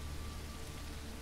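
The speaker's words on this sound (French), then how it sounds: "L'effet de pluie est plutôt bien fait d'ailleurs." Steady rain falling across the scene in the video game Native Hunter, a continuous even hiss of drops on surfaces with a low rumble underneath, no talk.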